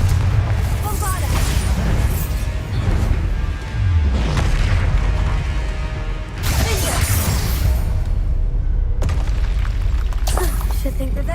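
Spell explosions from the Confringo and Bombarda spells in the Hogwarts Legacy video game, repeated deep booms and rumbling blasts with crackling bursts, loud and close, under a voice talking over the action.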